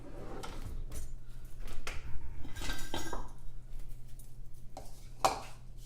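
Shrimp tossed with oregano and Old Bay-style seasoning in a bowl produce close, irregular clinks and scrapes of a utensil against the dish, with soft wet shuffling between the taps.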